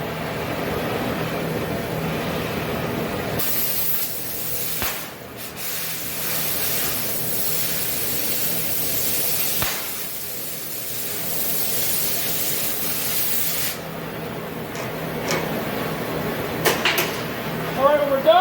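An oxy-acetylene torch cutting metal gives a loud, steady roaring hiss that starts abruptly, runs for about ten seconds and then cuts off, with talking around it.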